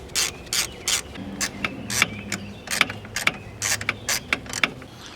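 A ratchet loosening 10mm bolts on a BMW E60 M5 engine, a dozen or so quick close clicking bursts in an irregular rhythm with short pauses between strokes.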